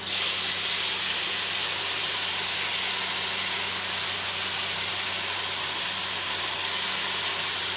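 Mixed dal goes into a hot pan and sizzles: a steady, dense hiss that stays loud and even for the whole stretch, close by, with a low constant hum beneath and no talking.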